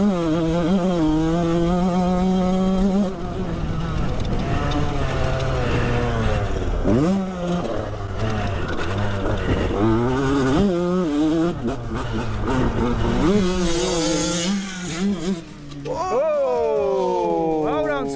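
A 30-year-old 125cc two-stroke dirt bike revs hard while being ridden, its engine pitch climbing and dropping in repeated sweeps, loud and close, with people talking and shouting over it.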